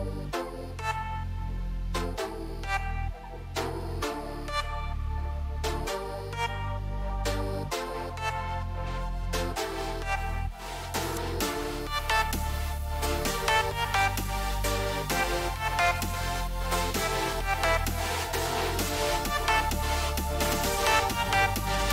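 Big room electronic track break produced in FL Studio, with loud pounding kicks and layered synth chords building in a steady rhythm, dense and continuous with no voices.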